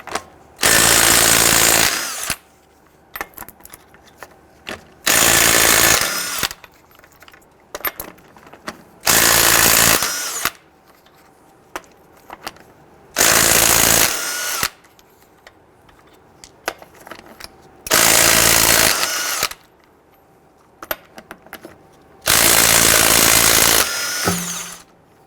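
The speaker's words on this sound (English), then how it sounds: "Using a 22mm socket, loosen and remove your lug nuts." Power tool with a 22mm socket loosening and removing the lug nuts from a 2007-2014 Cadillac Escalade rear wheel, six loud, close whirring bursts of about two seconds each, separated by quiet pauses.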